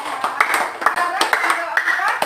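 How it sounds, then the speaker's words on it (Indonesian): A class of students claps in a short burst of scattered, uneven applause inside a classroom, close and fairly loud, with voices mixed in. "tepuk tangan untuk"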